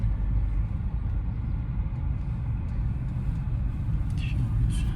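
A learner's car in Chandigarh pulls away as the clutch is slowly released, giving a steady low engine rumble throughout with no clear rise, heard from inside the cabin.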